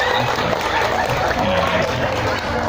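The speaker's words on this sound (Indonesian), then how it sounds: "Oke, tepuk tangan dong ibu-ibu ya." A crowd of women applauding at a halal bi halal gathering, a dense, steady wash of clapping and chatter lasting under three seconds.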